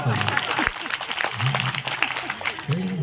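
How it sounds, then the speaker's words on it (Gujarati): Audience applause at a Gujarati gathering, a steady wash of clapping from a crowd lasting throughout, with a few louder low voices or shouts rising briefly above it. "એટલે તાળીઓથી વધાવો"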